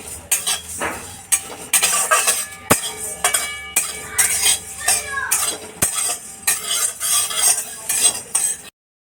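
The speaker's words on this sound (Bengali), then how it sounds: "এক চামচ জিরে এক চামচ মৌরি এক চামচ ধনে আর দুটো শুকনো লঙ্কা চাটনির আগে এই ভাজা মশলাটা করে নিচ্ছি" Cumin, fennel, coriander seeds and two dried chillies are dry-roasted in a pan, with repeated rhythmic scraping and clinking of a spoon against the metal in short bursts and only a faint sizzle.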